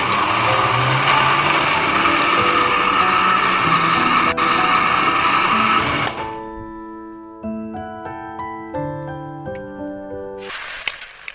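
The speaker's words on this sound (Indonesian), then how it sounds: "Ini lagi mager buat ngulek manual, jadi biar cepat kita blender aja deh ya." An electric blender grinding chili and shallots whirs loudly for about six seconds, then cuts off, leaving a soft melodic tune, before the motor briefly starts again at the end.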